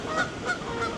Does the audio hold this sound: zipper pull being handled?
no